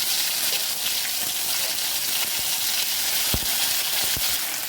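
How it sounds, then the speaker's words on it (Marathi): Ground onion paste fries in hot oil in a kadhai, giving a loud, steady, close sizzling hiss with a few dull knocks from stirring, and no one speaking. "आपलं तेल तापून झालं की आपण आता इथे याच्यात हे वाटण टाकून घ्यायचं आहे"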